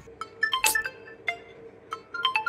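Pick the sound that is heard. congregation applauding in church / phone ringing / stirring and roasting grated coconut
phone ringing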